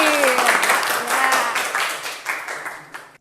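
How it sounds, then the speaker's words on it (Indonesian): Classroom applause for a student group, a dense patter of clapping sustained across the whole stretch over a background of overlapping voices. "kita kasih tepuk tangan kelompok"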